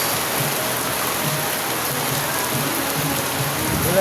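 A steady roar of heavy monsoon rain during a typhoon, thick unbroken hiss of water pounding down close by, with no voices.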